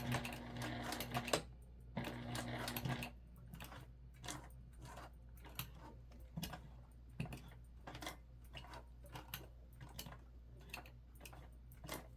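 A sewing machine runs quietly while sewing a crossbody bag pocket, giving off a soft burst of stitching followed by scattered light clicks and taps at a steady, faint level.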